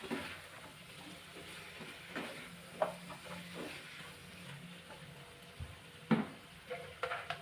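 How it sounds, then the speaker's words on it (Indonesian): Chicken feet stirred into spicy rica spice paste frying in a pan, with soft continuous sizzling and scraping broken by occasional clinks of a utensil, close and quiet. "Kemudian masukkan ceker yang sudah dibersihkan sebelumnya, lalu aduk hingga semua tercampur dengan bumbu ya."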